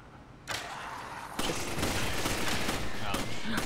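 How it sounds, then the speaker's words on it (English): Enemy gunfire rattles in dense, rapid bursts during a Resident Evil 5 fight, growing louder partway through and continuing as a steady barrage of close shots. "He has no head, how is he shooting?"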